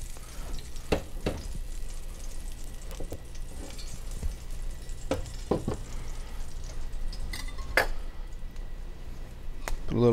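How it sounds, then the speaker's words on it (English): Carnitas pork meat being moved into a pan, a soft steady sizzle with scattered clicks and scrapes of utensils against the pan, fairly quiet and close. "I'm going to put a separate pan down, pick up our meat and transfer it over to this pan."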